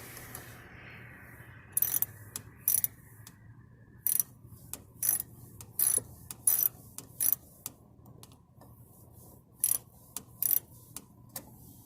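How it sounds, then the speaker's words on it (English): A ratchet wrench works on a car battery bolt, with quick clicking ratchet bursts spaced irregularly over a faint low hum. The clicks are fairly close and no one talks. "Let's make sure we got the ratchet going the right way first."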